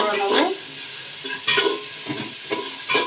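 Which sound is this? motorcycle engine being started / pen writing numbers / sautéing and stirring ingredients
sautéing and stirring ingredients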